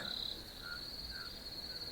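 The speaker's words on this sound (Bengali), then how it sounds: "চারিদিক থেকে ভেসে আসছে ঝিঝি পোকার ডাক" Steady, high-pitched cricket chirring drones on without a break, fairly quiet, against a still background with no voices.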